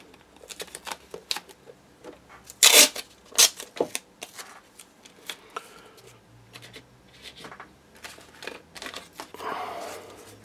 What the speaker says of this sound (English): we do need to tape off the rest of the area